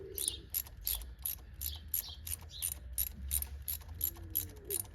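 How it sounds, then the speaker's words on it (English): Ratchet with a spark plug socket loosening a car spark plug, a rapid series of about a dozen close clicking pawl ratchets in steady rhythm, with faint metallic creaks. "just gently start loosening the spark plug"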